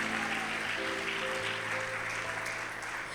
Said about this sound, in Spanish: Dele una ofrenda de palmas al Señor.